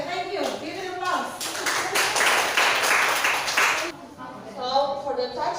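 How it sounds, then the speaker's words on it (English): A small group claps in a classroom, a short burst of applause between stretches of people talking. "Give an applause."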